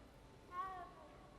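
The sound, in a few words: cat purring and meowing in Hogwarts Legacy video game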